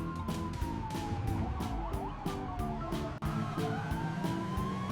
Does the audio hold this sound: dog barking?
no